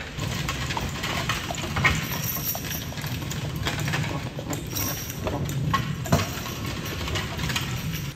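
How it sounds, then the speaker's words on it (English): Horse hooves clip-clop faintly at a distance over a steady outdoor rumble in Cades Cove, a loose irregular rhythm with no talking. "Off in the distance, you can see somebody getting a horse ride."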